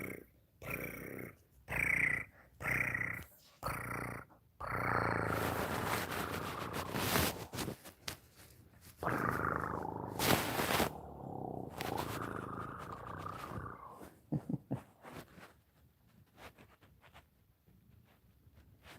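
Soft rhythmic cat purring close to the microphone, pulsing in breaths and fading in and out, with a few rustles and clicks.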